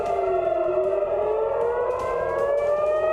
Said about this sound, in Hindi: हाइफा में सायरन की आवाज गूंजी